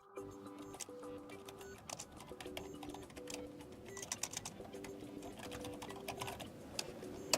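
Rapid, steady tapping of keys on an HP OmniBook 5 Flip laptop keyboard as an email address is entered, close and continuous, alongside a faint repeating electronic tone pattern.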